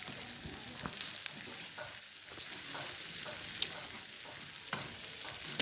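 Chicken keema with chopped tomato and green chillies frying in a pan, giving a steady hiss of sizzling with occasional soft stirring taps and one sharp click, close but fairly quiet and with no talking.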